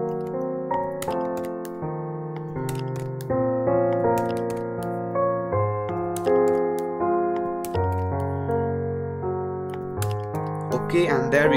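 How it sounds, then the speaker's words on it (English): Code is typed on a computer keyboard as a string of crisp clicking keystrokes that carry over sustained, tonal background music, with a voice speaking alongside. "Type this in once again"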